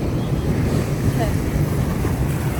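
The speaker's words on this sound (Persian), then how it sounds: "دریا خیلی قشنگه وقتی موج داره" Sea waves wash and rumble in a continuous broad roar along the shore, mixed with gusty wind buffeting the microphone, with no clear individual breaks standing out.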